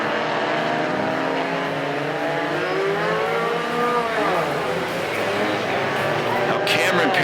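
Mini Stock race cars on a Perris Auto Speedway figure 8 track make engine drone with rising and falling revs as cars pass, under a track announcer's continuous commentary during the main event.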